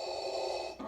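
Darth Vader breathing loop from a voice changer speaker, a single mechanical, hissing breath with a buzzy tonal edge, close and fairly clear, cutting off briefly near the end.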